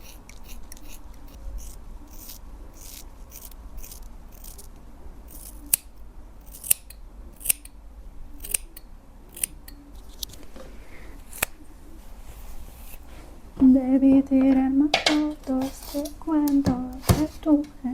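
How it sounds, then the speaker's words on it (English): Sharp scissor snips cutting hair, a sparse run of crisp clicks through the first half, then louder handling and a voice toward the end. "I am going to cut almost the same amount of hair"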